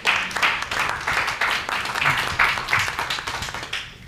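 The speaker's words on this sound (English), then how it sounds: "A big round of applause," An audience claps steadily for guest panellists at a business mixer, with dense, sustained applause of many hands throughout.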